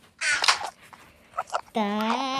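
A parrot squawks harshly, then holds a wavering, warbling tone, mimicking the Enderman from Minecraft; the calls are close and fairly loud.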